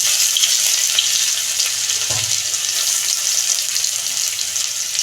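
Nigella seeds and crushed garlic sizzle steadily in hot oil, a loud, dense frying hiss throughout with a soft thump from the ingredients dropping in partway.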